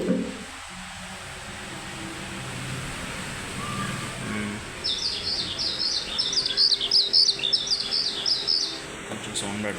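A bird chirping sound effect played from a Casio CT-X8000IN portable keyboard gives a quick run of high, bright tweets midway, over a faint steady background hiss.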